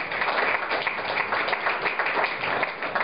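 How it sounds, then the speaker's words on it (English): Applause from a press conference audience at a casino, a dense steady wash of many hands clapping throughout, fairly loud and continuous with no voices standing out. "So please, a big round of applause for Jon."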